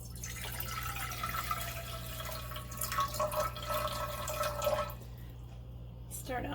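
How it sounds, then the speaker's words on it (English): Water from a tap runs into a cooking pot, a continuous filling splash whose pitch rises as the pot fills, over a steady low hum, then stops near the end. "Get some water into our pot."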